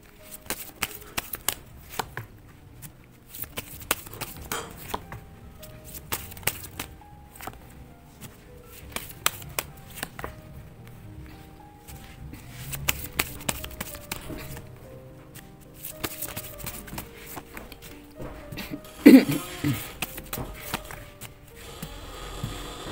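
Tarot cards are shuffled close by in a quiet room, giving a long run of soft, irregular riffling and tapping with small bursts and brief pauses.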